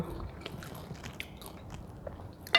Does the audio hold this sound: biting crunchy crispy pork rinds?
yes